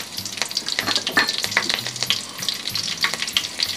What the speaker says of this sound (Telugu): ఆయిల్ కాగిన తర్వాత చెక్క, యాలకులు 2, లవంగాయలు దీంట్లో వేసేసుకోవాలి